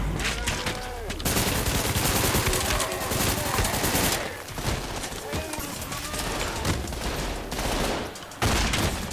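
Rapid automatic gunfire and explosive bursts from the shooter game Trepang 2, loud and dense with brief breaks, while a voice sounds through the battle at times.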